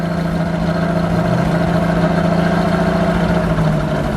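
A 1959 Ford Fairlane 500 Galaxie convertible engine is given a kick down, producing a loud, close, continuous rumble with steady harmonic drone and a slight upward pitch shift partway through.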